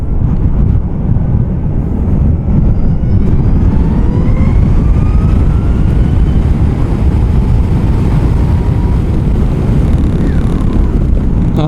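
A 2019 Zero SRF electric motorcycle accelerates hard. Its rising motor whine is buried under loud, continuous wind rush on the mic, with faint tones sweeping upward.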